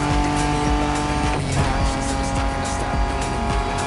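A Ford Bronco in the Oahu setting of The Crew Motorfest drives hard, its engine roaring continuously with tyres squealing and skidding as it races along.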